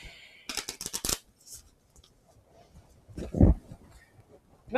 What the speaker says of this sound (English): So now shuffle the deck.